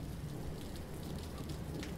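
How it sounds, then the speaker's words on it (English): Steady rain hisses on surfaces during a storm, with a low rumble of thunder beneath the continuous downpour, close and even throughout. "I honestly didn't think the storm was gonna hit us this early."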